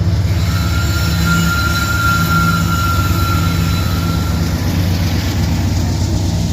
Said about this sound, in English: Alright, SEABORD unit coming through.